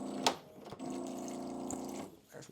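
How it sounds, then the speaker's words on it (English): Tap water runs onto dog food in a bowl, a soft, steady trickle lasting about a second and a half between faint clicks and handling noises, fairly quiet overall. "I'm going to be putting water on this food"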